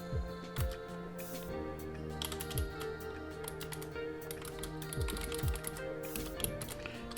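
Fingers type on a computer keyboard in quick, uneven bursts of close key clicks that run steadily with no speech.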